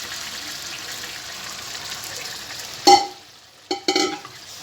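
Pressure-cooked beef goes into a karahi pan, with a steady sizzle followed by a loud clattering scrape and a couple of shorter bursts of stirring.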